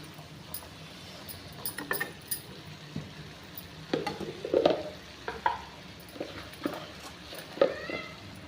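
A pan of pigeon pea curry is stirred and mixed, giving scattered scraping and clinking strokes at close range over a faint sizzle.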